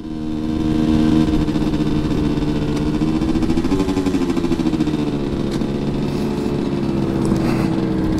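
A RIJU MRT 50 moped engine is held at high revs against its rev limiter, giving a loud, steady, buzzy drone with a slight wavering pitch throughout and no voices.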